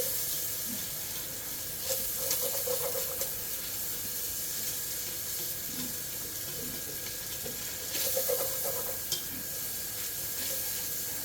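Bacon sizzles in a pot for a creamy corn chowder while it is stirred. A steady frying hiss runs throughout, and a couple of louder scraping stirs come through near the microphone.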